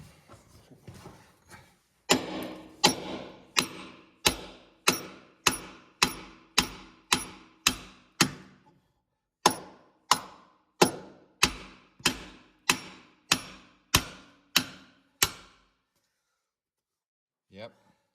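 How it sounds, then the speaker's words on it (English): A sledgehammer hammers a steel pin on a Ford 390 engine, about twenty sharp metallic blows in a steady rhythm with one brief pause, close and loud, then one last faint knock after a silence. "Hit that with your sledge, Kenny."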